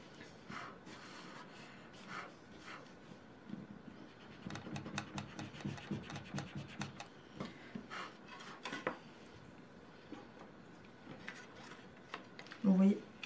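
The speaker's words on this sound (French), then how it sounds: "Et je préfère gommer ensuite." An eraser rubs out pencil lines on paper in quiet, irregular scrubbing bursts, close and soft, with a few pauses and a faint voice talking in the background.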